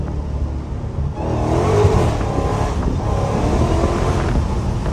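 Dodge Hellcat engine roaring at high revs with tires spinning and losing grip while driving down a road, a loud continuous drone heard from inside the car with no talk.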